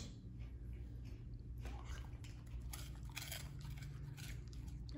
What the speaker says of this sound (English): Oh yeah, it's a good crunch.